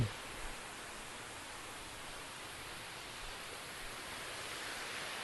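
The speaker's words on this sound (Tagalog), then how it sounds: "Napakaganda yung falls dito. Talagang malinis yung falls." A clean waterfall gives a steady, even rushing roar that fills the whole stretch without a break. No voices are heard.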